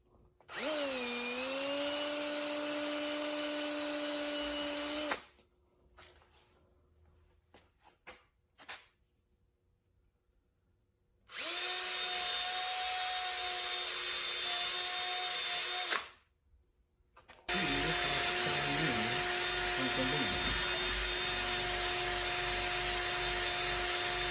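A power tool whirs while polishing an aluminium intake manifold with compound, running in three loud, steady bursts separated by quiet pauses filled with faint handling noises.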